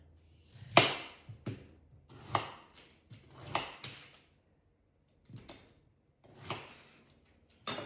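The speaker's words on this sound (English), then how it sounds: "Chop it into chunks like that. So we're just going to chop chunks" A knife chops beetroot into chunks on a board for beet kvass: a close, irregular series of crisp chopping knocks in loose clusters with short pauses, no voices.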